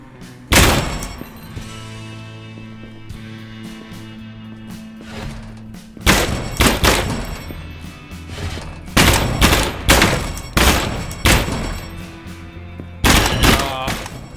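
Gunshots from a Luger and an AKM in Gunsmith Simulator, sharp loud cracks fired singly and in quick clustered bursts, close and punchy, separated by short quiet pauses with faint background hum.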